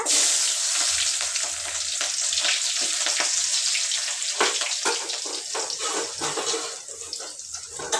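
Cumin, mustard seeds and onion fry in very hot oil in a home kitchen, giving a loud, steady crackling sizzle with sharp pops and spatters throughout, no voices.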